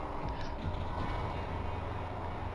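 A train in the video game Gadget: Past as Future gives off a steady, rumbling mechanical drone with faint creaks, continuous and fairly loud throughout.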